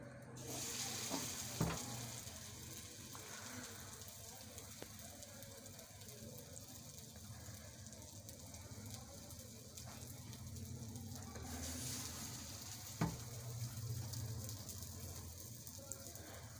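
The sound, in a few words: vegetables frying in a pan for a sandwich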